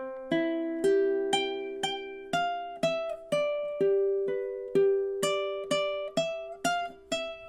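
Ukulele plucked in a steady rhythm, a regular series of bright notes and chords with clear attacks and ringing decay, playing a ballad melody without any voice.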